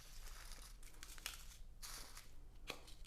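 Plastic pack of diamond painting drills being snipped open with scissors, giving soft crinkling and a few sharp crackly cuts, close and quiet, with no talking.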